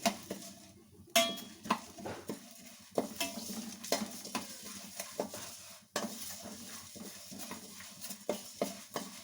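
Coriander seeds stirred in a frying pan, with a spoon repeatedly scraping and clinking against the metal amid a faint sizzle, irregular strokes close up and no talking.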